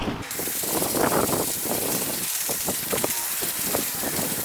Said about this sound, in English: clean the Super Clean side with my steamer